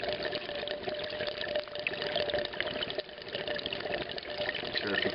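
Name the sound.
water draining through aquarium Durso standpipe with cap off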